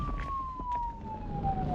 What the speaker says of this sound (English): At the same time, I heard police sirens outside.